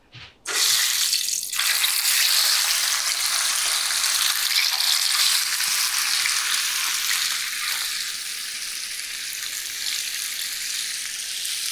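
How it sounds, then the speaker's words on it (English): Skin-on cod hits a pan of hot olive oil with a sudden loud sizzle that settles into a steady, bright frying hiss, close up and unbroken, easing slightly toward the end. "So there's the cod frying."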